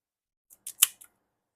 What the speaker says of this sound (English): I'm going to take my trusty porcelain blade cutter and we will nip just an eighth of an inch off the top.